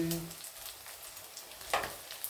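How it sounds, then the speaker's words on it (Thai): Coriander frying in hot oil in a home kitchen, a soft steady sizzle running throughout with a brief louder crackle near the end, heard alone and close. "ทอดผักชีแล้วค่ะ"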